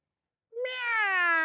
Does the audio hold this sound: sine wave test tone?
no